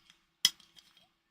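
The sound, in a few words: cork popping out of a wine bottle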